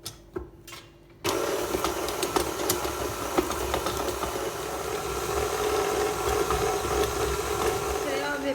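After a few faint knocks, an electric mixer switches on and runs at a steady whirring hum, beating butter and powdered sugar for butter cookie dough, with a voice talking over it.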